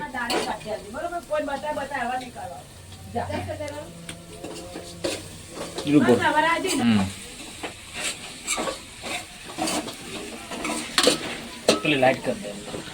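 Green garlic sizzling in a frying pan for a Gujarati village-style tota rotla shaak, with stirring and clinks of utensil on the pan, close and moderately loud, while someone talks over it.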